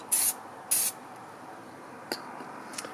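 A Krylon acrylic aerosol sealer gives two short loud hissing spray bursts, followed by a couple of faint clicks over a quiet room.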